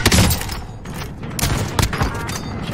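Dense video-game gunfire rattles continuously in a sustained fusillade of overlapping shots with occasional heavier booms, loud and close throughout.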